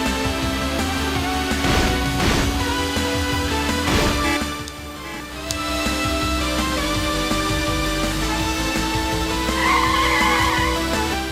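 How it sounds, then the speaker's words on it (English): A car in a PlayStation racing video game skids through corners: a steady engine drone with repeated tire squeals, a brief lull midway, then more squealing. No one talks. "you can sort of skid it if you push too much on the corners"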